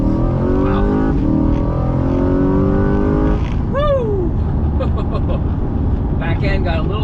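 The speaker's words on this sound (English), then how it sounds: "Let's do a non-launch control start and see how we do." A Corvette C8 in track mode accelerates hard from a standing start without launch control, its engine note climbing loud and close through rising revs, then a gear change and renewed pull with tire and wind noise.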